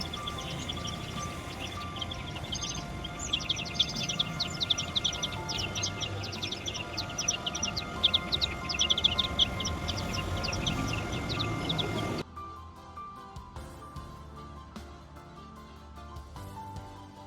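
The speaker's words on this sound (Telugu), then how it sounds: "మా టెర్రస్ గార్డెన్లో బుజ్జి బుజ్జి పిట్టలు ఎలా అల్లరి చేస్తున్నాయో చూడండి" Small birds chirp and tweet busily in rapid bursts, fairly close, in a terrace garden, before the scene cuts to quieter sparse calls.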